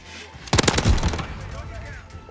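Uzi gunfire in a video game on the Sawmill map: a rapid burst of automatic shots that lasts about half a second, loud and close, then fades into game ambience.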